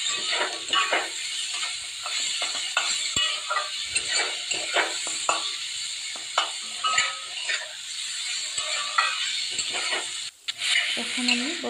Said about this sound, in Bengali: এখন আমি বটবটিগুলো অল্প ভেজে নেব